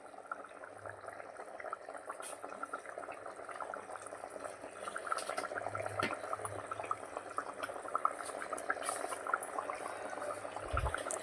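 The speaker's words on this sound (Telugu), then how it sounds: "ఇప్పుడు అలా ఉడుకుతుంది కదా, ఇలా ఉడుకుతుంది కదండి" Farm chicken curry bubbling in a pot, with a steady simmering hiss and soft pops close up under faint background noise.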